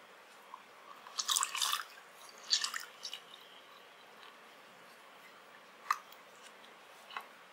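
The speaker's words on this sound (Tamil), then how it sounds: "நான் ஒரு லெமனை புளிகிறேன்" A lemon is squeezed for panakam, giving a few faint, close, wet squishing bursts and soft drips scattered over a quiet background, with no talking.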